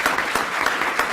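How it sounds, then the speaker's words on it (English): Steady applause from a conference audience for a panel, many hands clapping in a dense, continuous patter with a few louder swells. "let's give this panel a great round of applause."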